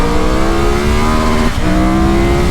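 Engine of a 2025 Triumph Tiger 1200 GT Explorer motorcycle held in a high gear while riding along a road, a loud, steady mid-pitched drone with a brief dip in the middle and no talking.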